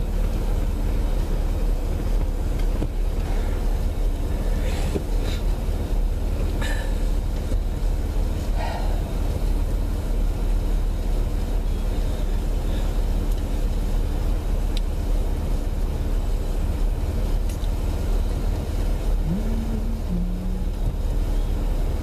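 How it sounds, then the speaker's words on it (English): A 2001 Buick LeSabre engine idles steadily, a constant low rumble holding even for over twenty seconds with no revving and no talk over it. "actually running better the longer it's sat here. It's idling better now."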